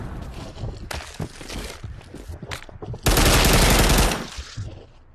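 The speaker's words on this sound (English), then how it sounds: "so I'm going to use an airstrike on them." Gunfire and an airstrike in the VR shooter Astro Hunters VR: scattered close shots and rattling bursts, then a loud, roaring blast that holds for about a second before fading back to lighter firing.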